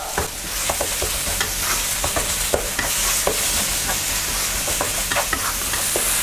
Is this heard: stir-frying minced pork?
yes